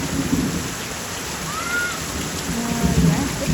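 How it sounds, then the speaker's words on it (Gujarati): Heavy rain pours down steadily around a village with broad, constant hiss, and a low rumble of thunder rolls through the short stretch. "કડાકા ને કડાકા સાથે વરસાદ થઈ ગયો"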